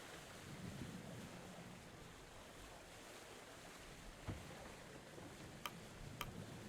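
Ocean waves and wind in a seafaring video game make a steady, faint wash of broadband rumble and hiss, with a few soft clicks near the end and no speech.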